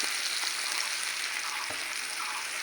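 Dried fish frying in hot oil in a clay pot over a clay stove, a steady close hiss of sizzling with faint crackles throughout and no voices.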